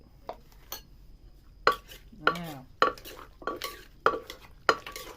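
Tomatoes, meatballs and fried hot dogs tossed together in a pan, a spoon clacking and scraping against the metal in short bursts, heard up close between brief spoken words.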